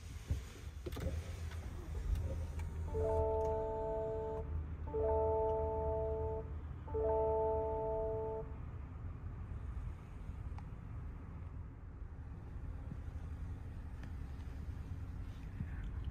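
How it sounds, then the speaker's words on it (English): Starting a 2023 Lexus RX350 sets off three evenly spaced electronic chime tones inside the cabin, clear and moderately loud over a low, steady interior hum. "Let's go ahead and start the vehicle."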